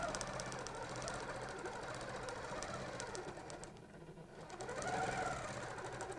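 A sewing machine stitches along the curves of a pointed arc ruler template in a steady, fast, close mechanical whir that dips briefly near the end before resuming.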